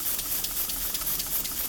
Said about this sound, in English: You see the steam being relieved from the compression chamber.